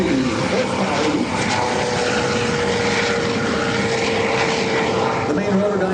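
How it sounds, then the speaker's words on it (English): A Coast Guard MH-65E Dolphin helicopter with twin turboshaft engines flies past at an air show, giving a loud, steady roar of engine and rotor that holds for the whole stretch. A voice can faintly be heard underneath. "Coming in from your right, the MH-65E Dolphin, powered by 2 turboelectric aerial QC2 turboshaft engines producing 850 horsepower each."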